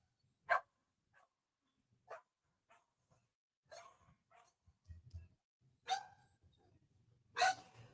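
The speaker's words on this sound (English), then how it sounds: "My dogs are very loud." Dogs bark in short, sharp bursts spaced irregularly across a quiet room, a few single yips and louder barks at a moderate distance, with faint low rumbling between.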